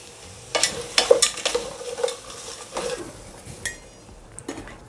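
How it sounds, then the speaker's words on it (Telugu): Cauliflower, tomato, capsicum, cabbage and a small eggplant going into a hot pan for vegetable dal khichdi, with a soft sizzle under repeated metallic clinks and scrapes of a spoon against the pan, close and uneven. "కాలీఫ్లవర్, టమాటా, క్యాప్సికమ్, క్యాబేజీ, ఒక చిన్న వంకాయ వేసుకుంటున్నాను."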